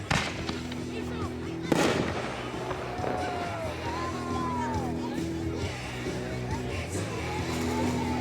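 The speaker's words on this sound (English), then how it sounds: "We're going to launch 1 donut shell and then 5 donut shells." Donut shell fireworks launch from a cake: a sharp thump, then whistling rises and crackling bursts follow, with a crowd murmuring and voices underneath throughout.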